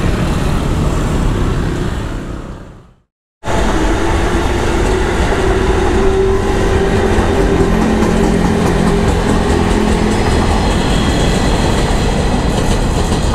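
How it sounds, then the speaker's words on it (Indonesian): A locomotive leaves the depot at Cipinang, its loud continuous rumble and rail noise filling the scene close by, broken by a brief dropout, then a steady rolling roar with faint clickety-clack. "Ada lokomotif keluar depo."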